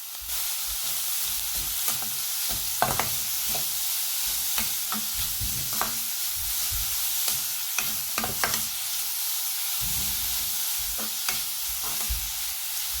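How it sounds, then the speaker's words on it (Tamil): Grated carrot sautéing with onion and chili for rava upma, a soft steady sizzle under frequent close scrapes and clinks of a spoon stirring the pan, no voices. "இப்போ நம்ம திருவி வச்ச கேரட் ஆட் பண்ணிக்கிறேன்."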